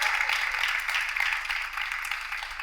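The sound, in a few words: studio audience applause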